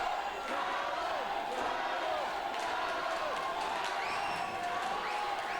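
Spectators at a professional boxing bout roar and cheer continuously in a dense, loud wash of noise. Whistles and shouts rise above it, and a voice can be heard in the mix.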